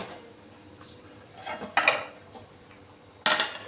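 A spoon stirring moong dal khichdi in a metal cooking pot, soft scraping followed by two sharp clanks against the pot's rim, close and otherwise quiet.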